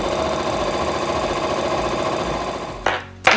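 A sewing machine top stitches through faux leather with a steady, close, rapid mechanical chatter that runs continuously, then stops abruptly near the end with a couple of handling clunks.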